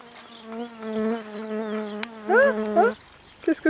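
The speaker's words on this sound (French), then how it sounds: "Regarde qu'il y a sur le caméscope une guêpe." A wasp buzzes close to a camcorder, a steady, strong droning hum that rises and wavers in pitch as it moves, loud and near, with brief chirpy sounds at the end.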